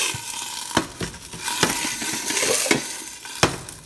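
Onion and garlic fry in a pan for a salsa, with a lively sizzle broken by several sharp clanks and scrapes of a utensil against the pan, spaced irregularly across the few seconds.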